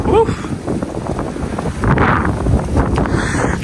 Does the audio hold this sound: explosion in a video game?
no